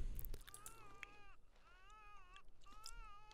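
A cat in The Sims 4 meows three times in drawn-out, wavering cries, spaced a little apart, over a faint background hum.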